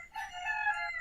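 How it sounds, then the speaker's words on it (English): A rooster crows once from a porch setting, a clear drawn-out cock-a-doodle-doo lasting about a second, moderately close and alone with no talk over it. "It sounds like the rooster's having a good morning."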